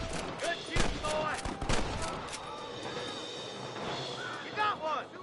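Gunfire in the Western video game Red Dead Redemption, with several sharp shots fired in quick, uneven bursts during a camp shootout, mixed with game voices shouting over the fight.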